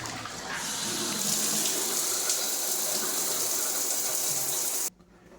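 Water runs from a shower head in a new-construction bathroom during a final plumbing check. It is a steady, hissing spray that starts within the first second, holds even for about four seconds, then cuts off abruptly near the end.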